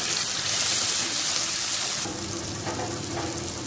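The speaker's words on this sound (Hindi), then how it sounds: "इसमें थोड़ा सा हम पानी ऐड करेंगे, 2 से 3 टेबल स्पून।" A few tablespoons of water hit a pan of frying onion and tomato masala over a medium flame, bursting into a loud hissing sizzle that stays dense and continuous, then eases slightly.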